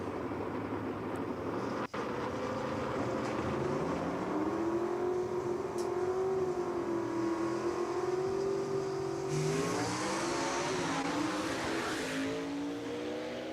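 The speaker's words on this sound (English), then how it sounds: "A lot of tire spin right there for Barry Lynn" A Southeast Gassers Association drag racing gasser car launches at Jackson Dragway with heavy tire spin, engine revving in a rising, wavering drone before it roars and fades down the strip, loud and alone.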